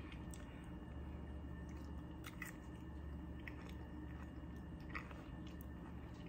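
Faint, close chewing of crisp jicama root keto french fries, with soft wet crunches and bites scattered over a steady low background hum, no talking.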